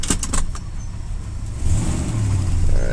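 A large car without power steering drives through a park road at night, its engine humming and rising as it pulls around a hairpin turn, with a few light clicks and rattles early on.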